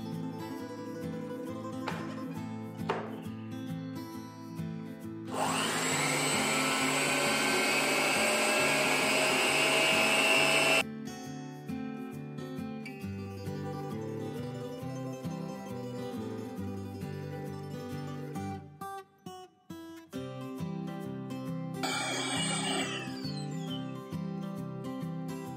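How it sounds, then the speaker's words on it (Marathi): Four eggs being whisked in a bowl with an electric beater for a chocolate brownie: a loud, steady motor whir runs for about five seconds mid-clip, with a shorter burst near the end, over continuous background music. "आपण आता बाउलमध्ये 4 अंडी फोडून घेतली आहेत, ती आपण आता चांगली फेटून घेणार आहोत."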